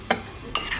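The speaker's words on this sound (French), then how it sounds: "Je vais mélanger." Two brief scrapes of a spoon stirring fish seasoning and stock cubes into a pot for mackerel, close and fairly faint, with a quiet pause between them.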